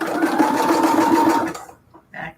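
Sewing machine running a zigzag stitch on a junk journal project, a close, steady rapid whir for about a second and a half, then it stops, leaving a few faint clicks.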